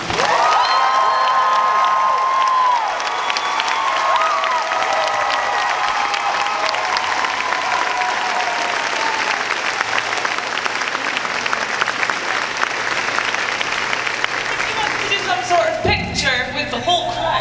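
A large convention crowd at Phoenix Comicon applauds and cheers for a guest's arrival, a loud sustained roar of clapping with whoops, and voices rising over it near the end.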